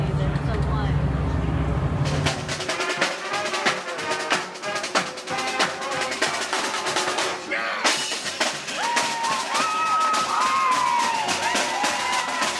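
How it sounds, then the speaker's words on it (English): A crowd lining Pine Street in downtown Abilene cheers servicemen and women at the Saturday morning Abilene Freedom Veterans Parade, with a dense outdoor roar, claps and whoops, and vehicles passing close by. "Hundreds coming out on Saturday morning to line Pine Street to cheer on our servicemen and women as they came by"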